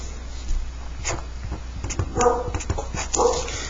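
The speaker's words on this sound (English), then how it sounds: "that's my dog barking" A dog barking and whimpering indoors, a few short yips and barks close by, loud and alone with no talking.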